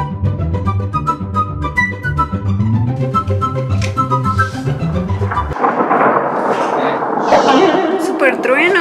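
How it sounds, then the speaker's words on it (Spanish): Loud thunder crashes in as a broad, rolling roar of rain-like noise halfway through, following a stretch of tonal music or voices, and keeps rumbling to the end. "¡Súper trueno!"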